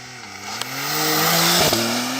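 A Porsche rated at 0 to 60 in 2.7 seconds pulls hard from a standstill on a rough road surface, its engine note rising steadily in pitch and growing louder, with a brief shift-like dip near the end.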